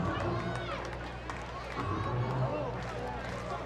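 Steady murmur of a midweek daytime baseball crowd at Coca-Cola Park, packed with camp groups, a continuous babble of voices and distant shouts, with a close announcer talking over it.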